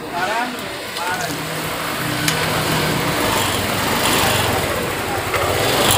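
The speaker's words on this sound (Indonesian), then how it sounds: "Oke, mesin nyala normal ya, responsif sekali untuk tekanan BBM-nya." A fuel-injected Yamaha Lexi scooter engine idles steadily after a fuel pump repair, a close, continuous buzzing hum that holds throughout without pause.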